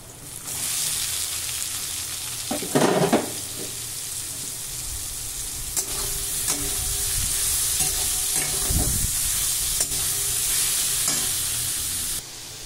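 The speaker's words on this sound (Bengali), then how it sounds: "সয়াবিনটা ভাজা হয়ে এসছে, একটু নেড়ে নেব।" Soybean chunks frying in a pan for chilli soya: a steady close sizzle broken by a few scraping stirs of a spatula, with no voices.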